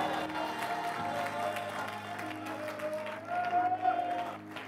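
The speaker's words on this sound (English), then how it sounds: "clap those hands, and shout a good hallelujah" A church congregation clapping together during a worship service, a soft, continuous patter of many hands under sustained organ-like music, fairly distant and moderate in level.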